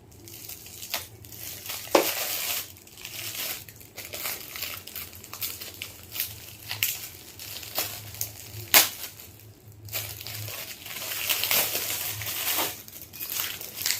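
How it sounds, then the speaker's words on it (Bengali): Crinkly plastic and paper wrapping of a Raksha Bandhan gift is crumpled and torn open close by, in repeated rustling bursts with occasional sharper crackles over about fourteen seconds, no talking. "তো এই গিফটটা আনপ্যাক করছি"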